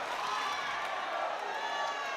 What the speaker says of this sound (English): The crowd getting behind their local boy.